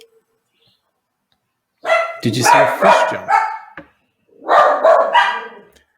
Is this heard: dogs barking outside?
yes